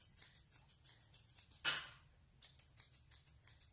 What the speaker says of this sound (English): you get a better look with thinning shears on this type of hair